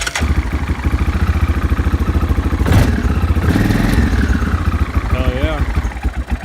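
A Kodiak engine cranks and catches after refuelling with choke, settling into a close, rhythmic, clattering idle with steady pulsing beats, while a voice speaks briefly over it.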